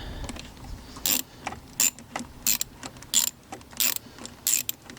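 Ratchet working a hose clamp off the throttle body of a 2024 Mustang GT, heard as a series of sharp, clicking bursts repeating roughly every half second to second, close and clear against quiet background.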